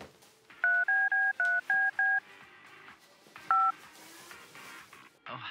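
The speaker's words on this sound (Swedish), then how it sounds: "Jag ska ringa presschefen nu för Hammarby, Axel." A phone dials a call, six quick evenly spaced touch-tone beeps followed by a single later beep, with faint background noise and a closing clatter.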